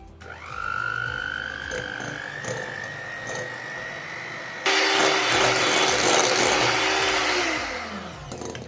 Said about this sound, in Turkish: 2 poşet krem şanti ve krem şantimi çırparak işe başlıyorum